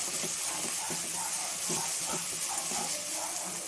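Ginger garlic paste with mint and coriander sizzles in a pan, a steady close frying hiss with faint crackles throughout.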